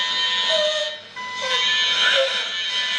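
A loud, harsh electronic buzzer drones continuously, briefly dipping before resuming, while voices sound faintly underneath.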